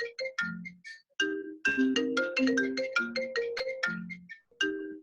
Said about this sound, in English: I got phones ringing.